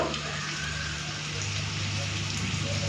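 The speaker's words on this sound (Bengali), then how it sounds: "এই যে রসুন আর আদাটাও ভেজে নিয়েছি এখন দিয়ে দিচ্ছি টমেটো বাটা" Tomato paste hitting a pan of fried garlic and ginger, with a soft steady sizzle and hiss running throughout at moderate level.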